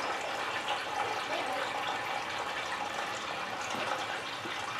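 Oat whiskey mash drains into a bucket with a steady, continuous rush and trickle of liquid, moderately quiet and close, without talk.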